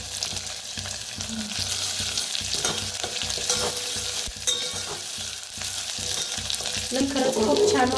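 Phodni tempering of curry leaves in hot oil, with a continuous close crackling sizzle and occasional spoon stirring against the pan.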